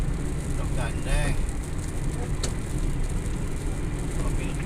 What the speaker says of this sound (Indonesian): Kanan kiri truk semua